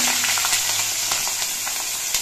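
A spoonful of cumin seeds sizzling in hot oil with green chillies and nigella seeds, a constant close hiss with scattered pops and light stirring taps.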